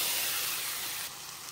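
Shrimp dropped into a hot pan with spices and vegetables, giving a short burst of soft, broadband sizzling hiss that eases slightly after a second.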